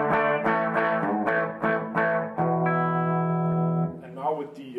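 A Les Paul Standard electric guitar plays clean through a Fender Deluxe amp: a quick run of picked notes, then a ringing chord left to sustain and fade. It is close and heard alone.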